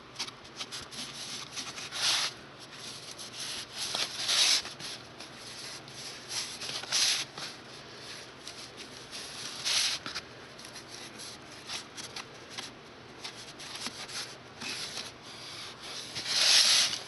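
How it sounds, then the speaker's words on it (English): Tool scrapes and rubs against air dry clay while trimming around the bottom of a dragon sculpture, producing soft, intermittent scratchy strokes that come close and clear with quiet gaps between them. "I'm just going to trim it around the bottom here."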